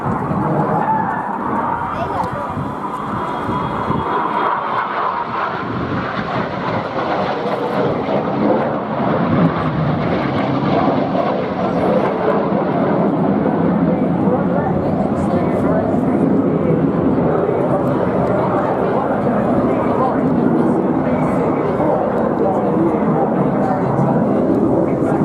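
RAF Red Arrows jets flying a display at the Eastbourne airshow, a loud continuous engine roar swelling and sustained overhead for the whole stretch, with a commentator talking over it.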